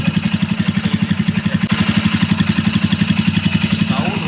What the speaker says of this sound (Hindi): ये है एग्जॉस्ट का साउंड